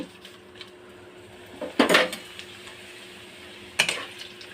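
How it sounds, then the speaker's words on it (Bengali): Pieces of papad are dropped into hot oil a few at a time. Two short, sharp bursts of sizzling stand out against a quiet, low background hum. "ওই তেলের মধ্যে পাঁপড়গুলো অল্প অল্প করে ভেজে নেব"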